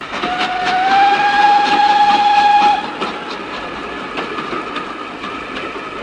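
A steam locomotive clatters along steadily with rhythmic clicks on the rails while a long whistle sounds for a couple of seconds, then fades into continued rumbling.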